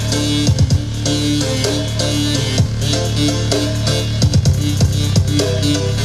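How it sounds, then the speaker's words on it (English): A festival house track drops into a halftime trap breakdown, with heavy sub bass, punchy slowed drums and dense synth layers playing loud and continuous with no voices. "Then it does a halftime breakdown right here that sounds like this."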